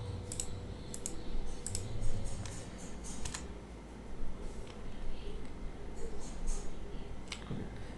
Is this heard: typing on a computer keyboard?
yes